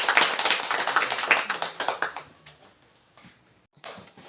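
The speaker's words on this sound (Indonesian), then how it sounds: "mari kita berikan tepuk tangan untuk belakang" Students in a classroom clap their hands together, a loud burst of many claps that thins out after about two seconds into scattered, fainter claps and a few final taps.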